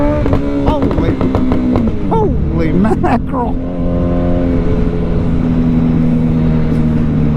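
Suzuki Hayabusa motorcycle, a 2024 25th Anniversary model, droning steadily under a rider who exclaims briefly; the exhaust note dips and shifts mid-ride with a gear change, then settles into a loud, sustained roar close by.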